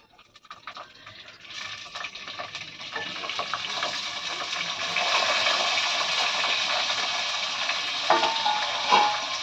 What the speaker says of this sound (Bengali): তেলের মধ্যে দিয়ে দেবো পেঁয়াজ আর আলু।